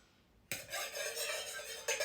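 A utensil stirs a vanilla lip balm salve mixture in a container, starting abruptly and then scraping and clinking steadily and close, with a second sharper scrape near the end.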